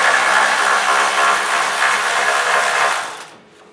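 A wrench works an 8mm head bolt free from a harness bracket by the firewall of a 2015 EcoBoost Mustang, giving a loud, steady broadband grinding rasp for about three seconds before cutting off abruptly.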